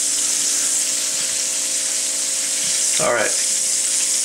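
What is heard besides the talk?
small potatoes frying in a pan with salt and pepper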